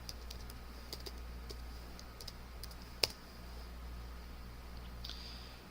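A command being typed on a computer keyboard in a Gentoo Linux terminal, producing soft, quiet, irregular key clicks with one sharper tap, over a low steady hum.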